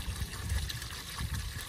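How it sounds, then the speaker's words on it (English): Water spills and rushes steadily over the edge of a koi pond during a dirty flush while cleaning, a continuous close gushing wash with no talking. "We're gonna do a dirty flush now. All right, so this is gonna spill over here pretty soon."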